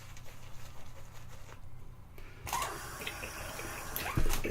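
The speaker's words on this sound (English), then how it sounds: "I'm going to give this just a bit more water." Water runs from a tap onto shaving soap lather, a brief pause and then a louder burst of splashing flow.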